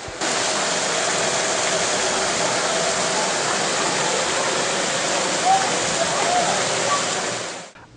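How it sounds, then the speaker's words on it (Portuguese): Floodwater rushes through a residential neighborhood in Bragança Paulista, Brazil, as a loud, steady, broadband roar that holds constant from start to finish, with no voices heard over it. "As imagens feitas pelos moradores da Par de Carvalho, bairro do Alegre, mostram a força da água."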